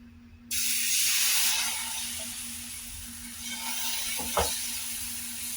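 Dosa batter landing on a hot, oiled tawa, a sudden loud hiss that starts sharply and settles into a steady, softer sizzle, with a brief clink near the end.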